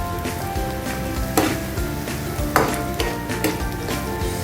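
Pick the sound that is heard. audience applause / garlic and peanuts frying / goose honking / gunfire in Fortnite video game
garlic and peanuts frying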